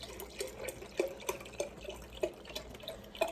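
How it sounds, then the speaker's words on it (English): Beef broth poured into a 24-ounce jar, a continuous close liquid trickle with small splashy drips recurring throughout, no talking. "you're going to fill this whole jar with beef broth"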